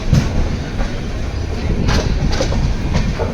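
A train departing Udupi rumbles steadily along with a dense rolling noise and faint rhythmic clatter of wheels on the rails.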